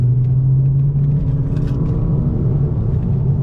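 A Ford Focus ST fitted with an Xforce catback exhaust pulls through third gear on a back road, its low droning exhaust note rumbling steadily and close, rising slightly in pitch as the car gathers speed.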